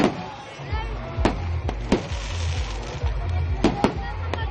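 Several sharp firework bangs pop at irregular intervals, some in quick pairs, over a low rumbling background with faint voices.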